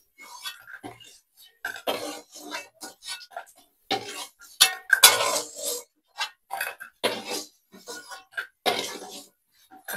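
Freshly fried food is lifted into a serving bowl, with scattered clinks and scrapes of a utensil against metal and dishes coming in short, irregular bursts between quiet gaps.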